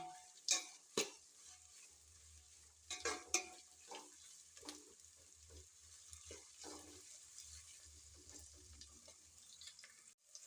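Pulao ingredients stir-fried on a high flame, with soft sizzling under a handful of sharp spoon-on-pan clatters early on, then quieter intermittent stirring and a low steady hum, close by.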